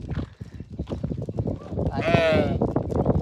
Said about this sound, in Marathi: त्या बघा ही शेळी दिसते ना